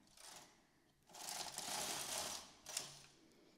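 A knitting machine carriage sliding across to knit rows gives a quiet, sustained mechanical whir and rattle in two sweeps, with a faint click between them.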